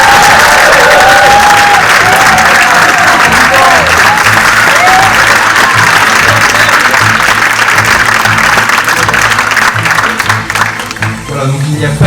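Sustained loud applause from a large audience at a student union campaign debate, dense clapping filling the whole stretch before tapering slightly at the end.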